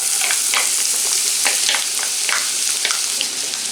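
Chopped onions fry in hot sesame oil with bay leaf in a kadai, giving a loud, continuous sizzle broken by repeated scraping stirs of a spatula.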